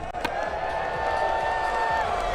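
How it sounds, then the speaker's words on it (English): Crowd cheering at a rail jam competition in Breckenridge, Colorado, a broad wash of shouts and whoops from spectators, with a brief sharp slam near the start and a sustained tone running across it. "the crowd is here. They are fired up in Breckenridge, Colorado"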